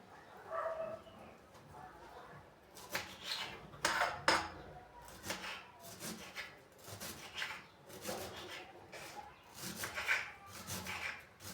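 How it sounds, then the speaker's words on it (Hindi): Coriander being chopped with a knife in a home kitchen during a power cut, giving a long series of repeated knife strikes on a board with scraping in between, close and fairly loud. "पहले धनिया काट लेती हूँ"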